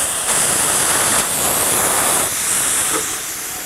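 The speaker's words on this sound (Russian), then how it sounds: "Вот я его сейчас с двух сторон стравливаю, чтобы быстрее пошло." Compressed air hisses steadily out of a reservoir being emptied from both sides, a loud, continuous broadband rush that barely wavers over the few seconds.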